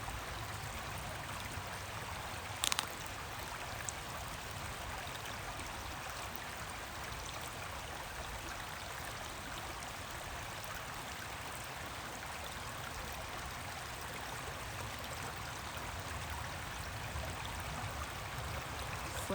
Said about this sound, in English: Just listen to the sounds of the running water